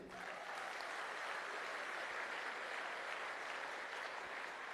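Faint, far-off audience clapping rises at a women's celebration event, a soft continuous patter of many hands that holds evenly for several seconds without speech over it.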